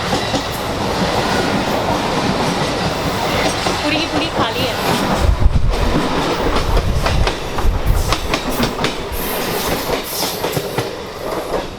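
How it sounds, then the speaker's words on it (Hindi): A Mumbai local commuter train rolls along with steady rumbling and rhythmic clacking of wheels, loud and close, with a person briefly speaking over it. "ये है लोकल ट्रेन"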